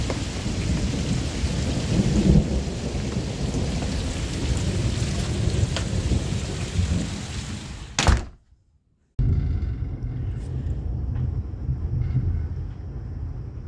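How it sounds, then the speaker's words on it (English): Heavy rain pours steadily during a Cleveland thunderstorm with wind and lightning, thunder rumbling loud and close throughout before cutting off briefly, then rain resumes more quietly. "I think it's a little dangerous to stand outside with all that lightning."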